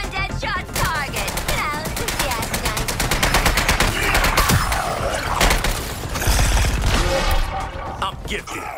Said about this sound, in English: Firing on dead shot target.